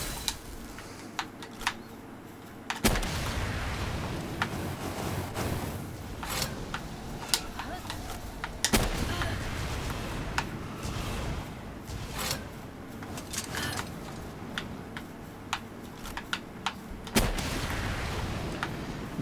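Gunfire in the video game Palworld: sharp, separated shots crack out every few seconds over a steady game backdrop, with a voice talking between some of them.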